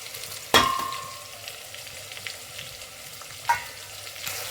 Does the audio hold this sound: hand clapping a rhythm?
no